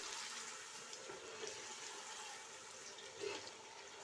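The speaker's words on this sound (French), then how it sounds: "on ajoute un peu d'eau. C'est pour éviter que la tomate concentrée se crame." Water pours steadily into a cooking pot holding tomato paste, a soft continuous rushing splash.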